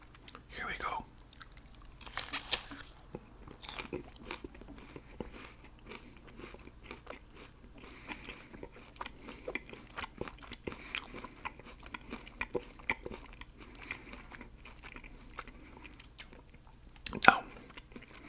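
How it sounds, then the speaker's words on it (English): Close-up crisp crunching and chewing of an apple, repeated bites and wet munching, with a sharper crunch near the end. "That is an apple. That crunchy is an apple."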